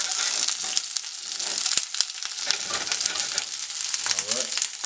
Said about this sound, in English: You just want to saute these up. I got some olive oil right here.